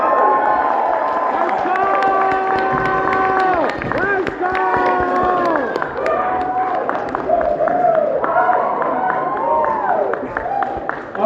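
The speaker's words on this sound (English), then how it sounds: "Can we get you guys to cheer?" You guys are gonna just cheer" An audience at a live Murder Drones screening in San Francisco cheers and whoops loudly, with overlapping high shouts and scattered clapping sustained throughout, close and energetic.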